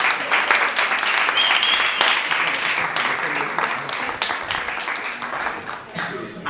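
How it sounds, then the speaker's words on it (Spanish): A live audience at a Spanish-language food science talk applauds steadily for several seconds, dense and loud clapping filling the room before tapering slightly toward the end. "Aplaudidme otra vez."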